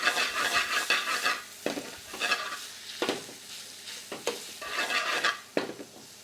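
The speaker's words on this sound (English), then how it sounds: "Crank up the heat. Let the mince lamb become cooked." Minced lamb with ginger and garlic frying in a hot pan for keema, with a steady sizzle broken by repeated scraping stirs of a utensil against the pan, close and clear with no talk.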